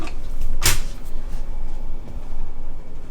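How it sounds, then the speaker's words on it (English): A hotel room closet's sliding door in Hong Kong rolled open and shut, a loud rumbling glide with a sharp knock as it meets the frame, followed by quieter rolling. "Here's your closet, and of course you can move the door back and forth."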